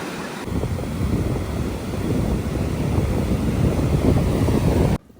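Evening wind on a Durban beach, a loud, continuous rumbling buffet against the microphone that cuts off abruptly at the end.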